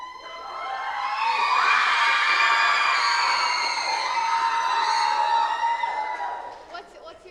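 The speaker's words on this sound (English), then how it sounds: "Can we hear a cheer for any of the schools? Whoever has the loudest cheer, we'll go with them first." A crowd of school students at a writing conference cheers loudly, shrill young voices whooping and yelling together, swelling to a peak, holding, then fading out.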